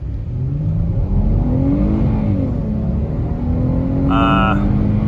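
A 2016 Dodge Challenger V6 in sport mode accelerating hard, the engine note climbing steadily through the gear from inside the cabin, loud and continuous, with a brief chime near the end.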